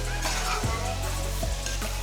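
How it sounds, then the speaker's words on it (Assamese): Chicken pieces fry in a wok for a curry, a continuous loud sizzle with occasional stirring scrapes and clinks at a regular pace, close up and without speech. "মাংসখিনি অলপ দেৰি এনেদৰে ভাজি থাকিব"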